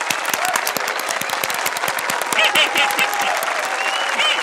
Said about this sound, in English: Let's all clap for Pato's terrific dance moves.